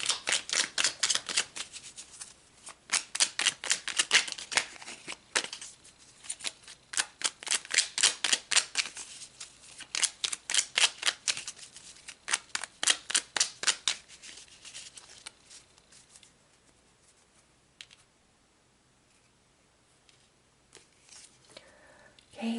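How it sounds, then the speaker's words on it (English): Tarot cards shuffled by hand in quick riffling bursts, near and moderately loud, repeating in rhythmic waves for about fourteen seconds before trailing off into quieter handling with faint background noise. "let's pull some more cards."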